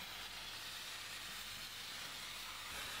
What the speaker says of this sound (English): Clean any worktop or table with a Kärcher steam cleaner and you'll achieve perfect results